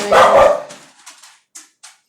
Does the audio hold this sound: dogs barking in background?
yes